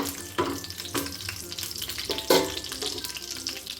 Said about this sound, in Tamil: நெய்யில் நல்லா முந்திரி பருப்பு பொறிஞ்சு வந்ததுக்கப்புறமா எடுத்து வச்சுருவோம்